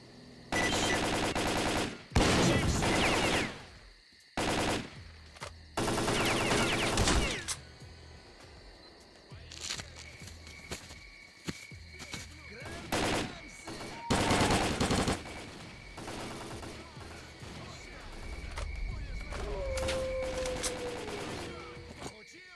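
Gunfire in STALKER: Call of Pripyat comes in loud bursts of rapid automatic shots, separated by quieter stretches of game ambience, mechanical clicks and a rising tone.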